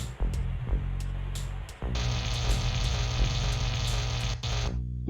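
Harsh crackling electric static fizzes and buzzes continuously over a low hum as a video game robot's circuitry is fried, with sharp snapping bursts and a bright sizzling surge partway through.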